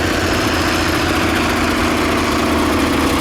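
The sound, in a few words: tractor engine running, 150 horsepower converted turbocharged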